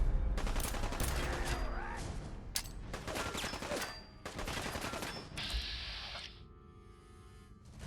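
Rapid bursts of gunfire in the Fallout video game, dense and loud through the first seconds, then a pause and a second volley. A sharp hiss and mechanical whir follow near the end.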